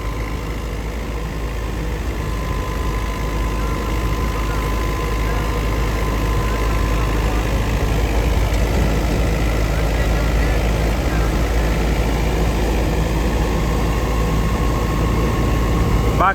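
A New Holland 850 tractor engine runs steadily during a power test on a wheat thresher, with a constant loud low rumble and drone and a faint steady whine throughout.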